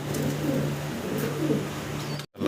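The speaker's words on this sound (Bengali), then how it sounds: "দেখেন অসাধারণ সুন্দর এক পেয়ার কবুতর দেখাচ্ছি আপনাদেরকে" A pair of stencil fantail lakkha pigeons coo softly and steadily up close, a low repeated throaty call that runs almost without a break until it cuts off abruptly near the end.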